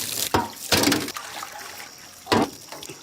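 Fish being rinsed in water for a Kerala-style fish fry: a few short splashy gushes of water with softer trickling between them, close by, no talking.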